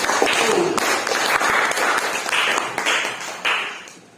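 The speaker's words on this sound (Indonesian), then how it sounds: "kita beri aplaus yang meriah untuk kelompok kreativitas" An audience in a classroom claps for a presenting group, a dense, steady round of applause lasting several seconds and heard close up.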